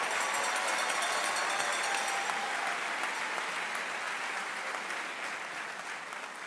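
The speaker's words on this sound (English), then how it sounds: "Come on, everybody, it's going to be a round of applause." Dense, sustained applause from a crowd at a youth academy graduation ceremony, filling the whole stretch at a steady, loud level and easing slightly toward the end, with no talk over it.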